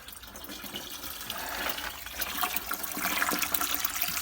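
Water gushing and trickling steadily into a heating system's pipes as a Parkray stove and its pipework are filled, a continuous close wash of flowing liquid that grows slightly louder over several seconds.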